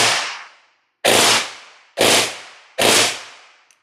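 A modified Classic Army dual-barrel airsoft gun fires four loud, sharp bursts, each a crackling volley that rings out and fades before the next, with no talking.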